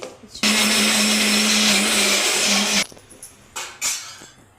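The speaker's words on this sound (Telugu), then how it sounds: "అల్లం వెల్లిపాయలు ఉల్లిపాయలు పచ్చిమిరకాయలు మొత్తం పట్టేసుకోండి మిక్సీ" Mixie grinding ginger, garlic, onions and green chillies: the motor whirs loud and steady for about two and a half seconds, then stops, followed by a couple of short clattering knocks.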